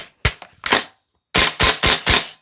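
Rapid bursts from a VFC V3 URGI 10.3-inch M4 gas blowback airsoft rifle on full auto, loud and close: one short pop, a quick double, then a run of four sharp reports at an even pace.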